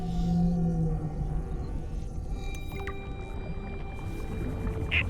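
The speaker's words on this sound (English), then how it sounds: "It's called a glow whale." Glow whale call from the video game Subnautica Below Zero, a communal leviathan about 20 meters long: low tonal moans with sustained higher whistling tones over a steady rumbling ambient bed, continuous for several seconds.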